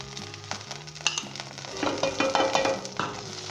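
White butter, about a tablespoon, melting and sizzling in a pan for Lahori French toast, with soft crackle and scattered clicks of a utensil spreading it over a steady frying bed.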